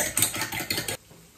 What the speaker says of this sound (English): And then just whisk a little bit.